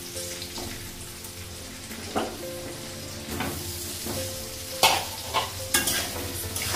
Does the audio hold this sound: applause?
no